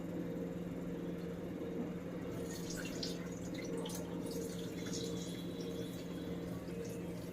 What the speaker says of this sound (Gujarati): એટલે આપણે છે ને આવી રીતે પાણી નિતારવાનું, એટલે ચોખા ન ઢોળાય.